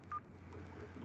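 Telephone keypad dialing tones from a VoIP call in Packet Tracer, one short clear beep near the start over a faint low hum, quiet overall.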